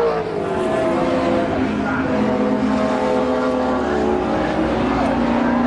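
Race cars pounding down the Brabham straight at Brands Hatch in a Classic and Thunder race, including a Mazda RX8 Turbo; a loud, continuous engine drone with shifting pitch fills the clip, while a commentator talks over it.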